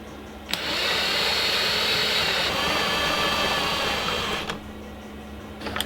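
An impact driver with a thick-walled impact socket spins plain black wheel nuts onto an Escort Cosworth rally car replica, a loud continuous whirring burst lasting about four seconds, close by, with a brief pitch shift midway.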